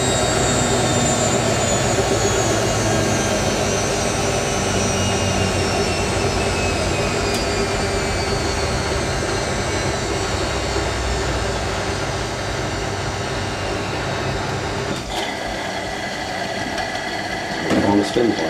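A Hotpoint 9530 Electronic 1000 Plus washing machine on its spin cycle with a load of twin bedding, giving a loud steady whirring drone with a pitch that falls gradually and a few knocks toward the end.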